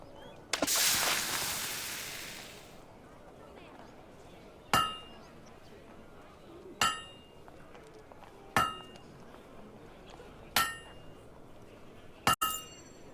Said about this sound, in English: You know how to use a hammer.